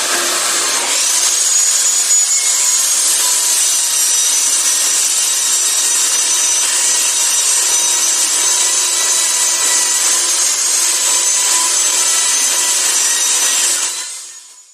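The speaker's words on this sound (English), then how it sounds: "to rip 1 inch off of only one side of this 2x4" A table saw rips one inch off a 2x4 in a single long, loud, steady cut, a high whining buzz that holds for about thirteen seconds then winds down, with no talk.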